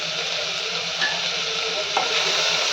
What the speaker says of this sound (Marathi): कांदा थोडासा भाजत आला की घालून घेऊयात टोमॅटो, टोमॅटो पटकन भाजला जावा त्यासाठी मीठ घालून घेऊयात